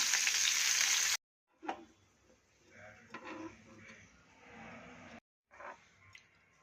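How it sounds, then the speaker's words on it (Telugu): Coriander leaves frying in oil: a loud hiss as the leaves hit the oil, then a quieter sizzle with a few spatula scrapes, broken by brief silences. "ఇప్పుడు కొద్దిగా కొత్తిమీర కూడా ఆయిల్లో వేయించుకుంటున్నాను"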